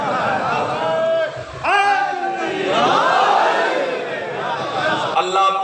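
A crowd at a Muharram majlis chants slogans together, with loud swelling voices rising and falling in waves alongside a lead voice.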